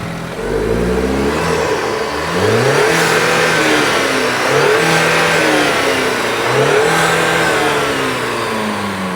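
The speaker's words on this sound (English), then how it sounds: "you should start it up, probably" A Maserati Grecale SUV engine fires up and is revved, a steady loud mid-pitched drone rising and falling in several swells as the throttle is blipped, close by with no talking.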